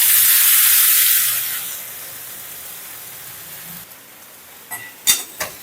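White peas for a mango ginger sundal hit a hot pan with a loud hissing burst that fades over a couple of seconds. Quiet stirring follows, then a few close metallic clinks of a spoon against the pan.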